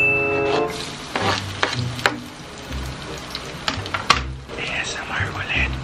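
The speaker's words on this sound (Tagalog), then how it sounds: "Prito muna natin yung ano, yung bawang." Garlic fries in a hot pan for a creamy Angus beef burger steak, a light crackling sizzle broken by clinks and stirring scrapes, with a voice talking over it.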